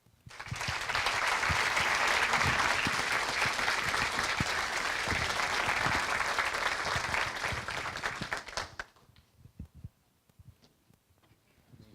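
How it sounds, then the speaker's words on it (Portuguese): A business event audience greets guest Wilson Paiva with loud, sustained applause lasting about eight seconds, then it breaks off abruptly into a few scattered claps and quiet. "peço que vocês recebam com uma salva de palmas Wilson Paiva"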